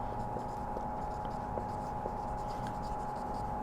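Pen or marker writing out an English grammar example sentence during a lesson, a steady scratchy stroke sound with brief taps, close and continuous over a constant background hum.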